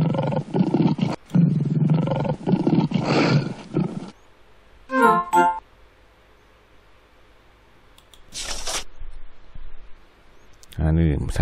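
A lion roars in the DK Play & Learn Reading and Counting educational game from 2001: several loud, close roars in bursts, separated by quieter gaps, with a short clicking sound partway through.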